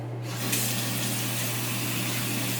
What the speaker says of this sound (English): let me give my Clarisonic brush a real good rinsing